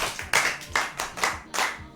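Hands clap in slow, separate bursts, about five sharp claps spaced roughly every quarter to half second, fairly close and moderately loud, with no voices over them.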